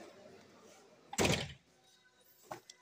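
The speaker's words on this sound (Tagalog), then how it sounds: "tapos syempre buksan natin yung mga pinto" A Toyota Hiace Super Grandia van door is opened with a single loud thunk, followed later by a smaller knock, against a quiet background.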